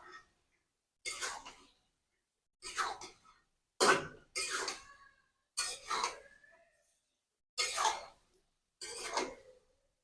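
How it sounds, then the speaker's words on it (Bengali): Chicken and potato pieces are stirred together in a cooking pot, giving eight short scraping, clattering bursts of spoon against metal spaced by brief pauses. "মাংস আর আলুগুলো একসাথে দিয়ে নেব সুন্দর করে নেড়ে চলে নেব"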